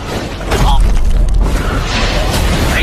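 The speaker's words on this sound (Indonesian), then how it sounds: "Seketika terjadi ledakan yang berasal dari peperangan antar dinasti." Explosion from a battle between dynasties in the animated series Wu Dong Qian Kun, a loud rumbling boom with rolling low roar and debris-like crackle sustained throughout.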